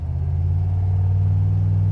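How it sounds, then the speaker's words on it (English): A 1988 Chevrolet C/K 1500 pickup truck engine rumbles steadily while accelerating with a deep, continuous low drone, close by and loud, holding an even level throughout with no voices. "Gonna accelerate again."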